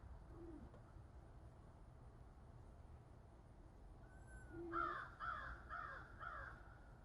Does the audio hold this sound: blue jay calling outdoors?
yes